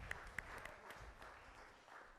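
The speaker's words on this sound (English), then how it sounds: "Give yourselves a round of applause" Dance class participants applaud after a salsa and cha-cha lesson, a soft, distant, sustained patter of clapping with a few sharper claps near the start.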